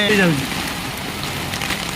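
Heavy rain pours down in Goa in a loud, dense, continuous hiss close by, with a brief voice at the very start.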